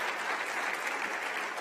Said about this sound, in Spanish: démosle un aplauso al Rey bendito